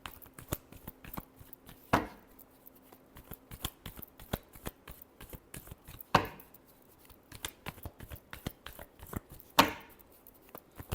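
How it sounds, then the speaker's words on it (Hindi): A deck of cards being shuffled during a tarot-style reading, with soft, rapid riffling clicks throughout and three louder snapping bursts spaced several seconds apart, close and fairly quiet with no talking. "last shuffle"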